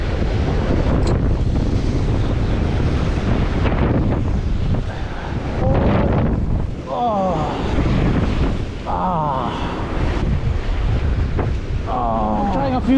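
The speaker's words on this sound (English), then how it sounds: "The wind." Strong wind gusting over open sea from a small fishing boat out casting for bonito, roaring steadily into the microphone with surf and water noise beneath and brief voices breaking through at moments.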